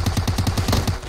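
A rapid burst of automatic gunfire in PUBG Mobile, about ten evenly spaced shots at close range, loud and with no talk over it.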